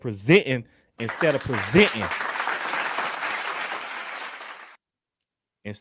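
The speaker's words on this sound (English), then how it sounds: "Round of applause." An audience bursts into a round of applause, a dense wash of clapping lasting a few seconds after a speaker's voice, then fading out before the speaker resumes.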